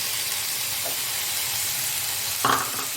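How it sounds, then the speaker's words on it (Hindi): Chopped tomatoes and onions frying in a pan for butter chicken, a steady close sizzle broken by a brief scrape of a stirring spoon near the end, no talking. "इसको भी अच्छे से भूनना है।"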